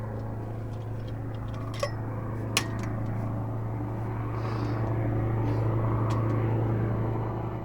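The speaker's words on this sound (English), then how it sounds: "And then I heard this plane." A distant airplane drones steadily, its low hum swelling slightly toward the end, with a couple of sharp clicks early on.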